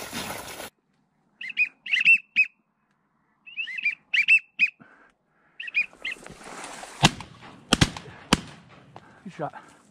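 Several sharp gunshot cracks ring out during a duck hunt, loud and close, following chirping bird and duck-call sounds in short bursts, with outdoor rustling between shots.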